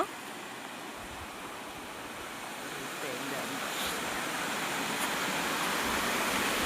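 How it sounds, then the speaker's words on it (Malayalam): Broad, constant rush of water released through a partly opened sluice gate into a river, steady and fairly loud, with wind noise mixed in. "ഇവിടെ ആറ്റിലേക്ക് വെള്ളം തുറന്ന് വിട്ടേക്കുന്നതാണ് ഈ കാഴ്ച"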